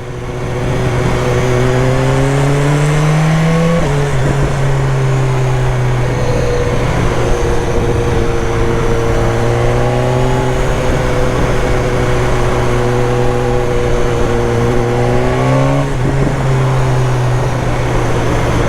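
A BMW motorcycle engine holds a loud, close, continuous drone through a long pass, its pitch rising in revving surges, dropping sharply at each shift, then climbing again, with no talk.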